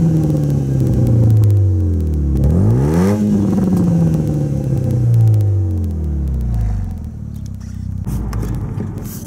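A Renault Megane R26 F1 hot hatch engine drones from inside the cabin while driving, its pitch rising and falling through gear changes and revs in a loud, continuous hum.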